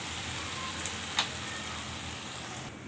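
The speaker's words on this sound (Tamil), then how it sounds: "கொஞ்சம் சீக்கிரம் தக்காளி வதங்கிடும்" Tomatoes sautéing with salt in a pan, a steady, close sizzling hiss with a couple of faint clicks from stirring, no talk.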